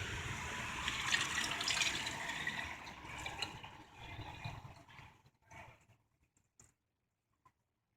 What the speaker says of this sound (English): Now you got to fill the reservoir.